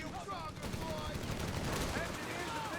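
Heavy machine gun fire in a Company of Heroes 3 1v1 match, with dense, continuous rattling bursts and battle noise filling the whole stretch at a steady, loud level.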